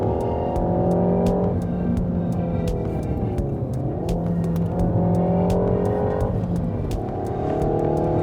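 A Peugeot 308 GTI's engine drones loud and steady from inside the car while driving, its pitch rising through the gears and dipping briefly at shifts, with no talk over it.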